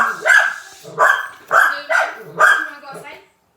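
Dogs bark in a quick series of about six sharp, close barks, the last one softer, with a voice talking between them.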